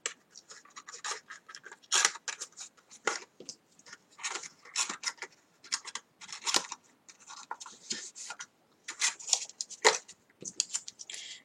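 Scissors snip through paper boxes for a rectangular exploding-box advent calendar, a quick series of crisp close cuts that come in uneven bursts with short pauses and no talk.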